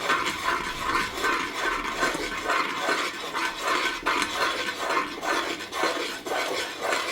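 Sweet corn ada mixture stirred in a pot with the heat switched off, a steady run of close scraping and swishing strokes that continues without a break and with no voices.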